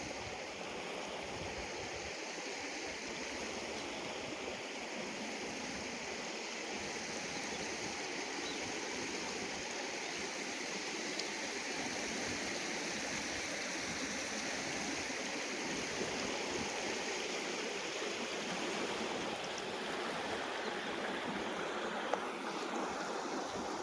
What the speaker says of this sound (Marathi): ही आमची नदी आहे